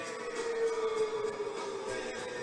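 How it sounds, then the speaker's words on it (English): A civil defense siren sounds at a girls' high school soccer game in Gardendale, Alabama, a steady sustained wail held at fairly even loudness throughout, with no talk over it. "And the siren goes off"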